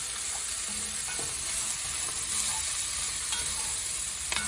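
Chunks of pre-seasoned meatless burger sizzle steadily in a pan in an RV kitchen, with a few scraping stirs from a spoon over the continuous frying hiss.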